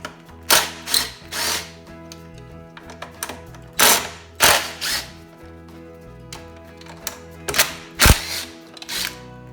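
A ratchet with a 9mm socket works the three muffler bolts loose on a Honda EU2000i inverter generator, giving repeated short bursts of close, crisp mechanical clicking separated by brief pauses.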